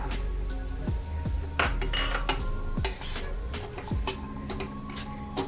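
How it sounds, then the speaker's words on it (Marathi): Peas tipped into a pan of soya mince being cooked at home, giving close metallic clinks and taps of a spoon against the pan, with scattered small rattles and a light sizzle underneath. "आता याच्यात वटाणे टाकून घेते."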